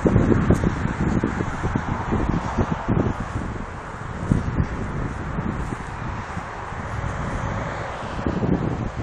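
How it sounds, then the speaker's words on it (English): Wind blows steadily outdoors, a broad rushing roar with gusty buffeting on the microphone, continuous and fairly loud for the whole stretch with no talk. "Cool, listen to that wind."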